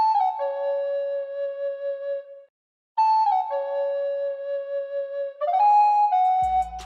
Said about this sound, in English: And now for the notes of the flute melody.